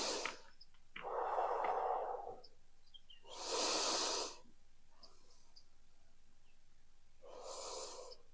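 Deep yoga breaths taken close to the mic, with three separate breathy rushes of air in and out and quiet pauses between them, no talking.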